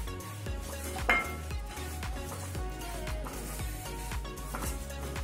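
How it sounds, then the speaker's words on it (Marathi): Bombil pickle masala is stirred in hot oil, a spoon scraping and clinking rhythmically against a metal pan with repeated knocks, over a low sizzle. "ह्या गरम तेलामध्येच आपण हे परतवून घ्यायचे. 1-2 मिनिटं तरी हे असं आपण परतवून घ्यायचं."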